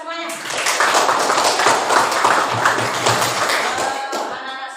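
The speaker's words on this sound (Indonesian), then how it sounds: "tepuk tangan untuk kita semuanya" A classroom of children clapping together after a batik project lesson, a dense, steady patter of many small hands lasting several seconds, close and fairly loud, with children's voices mixed in.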